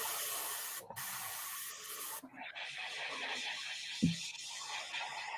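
Spray paint hisses steadily onto a painting of a charra, laying down a loud, close, continuous spray that breaks off briefly twice, with a short dull knock partway through.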